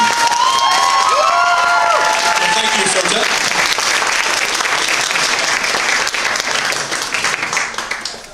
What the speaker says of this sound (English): Everybody, another round of applause for Gordon.